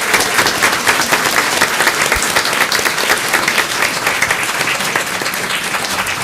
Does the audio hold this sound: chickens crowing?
no